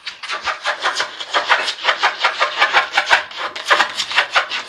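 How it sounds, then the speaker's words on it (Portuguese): A mixed-breed dog files its own nails on a scratch board, giving rapid rhythmic rasping scrapes in steady bursts, close and loud with no voices. "Você tá lixando a unha?"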